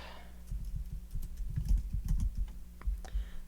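A search is typed on the keypad of an ETC Eos theatre lighting console as a quick, close run of uneven key clicks and taps, with no talk over it.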